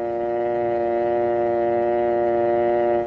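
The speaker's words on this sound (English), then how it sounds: "Then remove the receiver and listen for the dial tone." A steady, continuous telephone dial tone hums evenly at moderate loudness, unbroken for a few seconds before cutting off.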